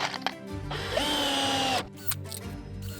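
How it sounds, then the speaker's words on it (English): Cordless screwdriver drill driving screws into wood: a continuous motor whine rising for about a second under load, flanked by brief clicks and shorter bursts, close and fairly loud. "Now let's check how quickly this screwdriver can drive 10 screws."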